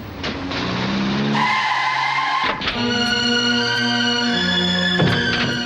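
A car skids to a halt in a Hindi film scene, with loud sustained tire squeal and engine noise layered over steady tonal sound, and a sharp burst partway through.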